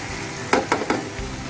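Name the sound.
chicken keema cooking with ginger garlic in a pan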